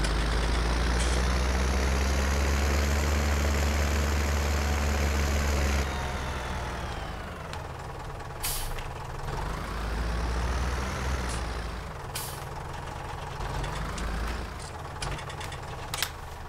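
Engine of a John Deere tractor idling in the Farming Simulator 19 game, a steady low rumble that runs loud for several seconds, then drops a little quieter and keeps droning, with a few brief clicks over it.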